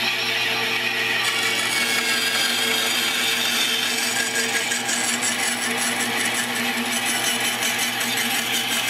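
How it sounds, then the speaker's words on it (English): Small tabletop bandsaw with a looped blade cutting wood, a steady continuous whirring hum with a bright rasping edge that holds evenly throughout, close and moderately loud. "This is a bandsaw, so the blade is a big loop."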